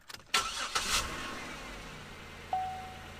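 A car's engine cranks and catches during a DIY front brake pad replacement, a short starter whir followed by the engine settling into a low idle, with a brief high tone near the end.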